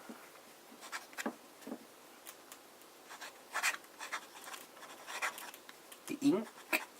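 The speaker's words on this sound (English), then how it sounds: "Got us some fine writing." Pen nib writing with Edelstein Amber ink on paper, making faint, intermittent scratchy strokes up close, with a voice speaking in between.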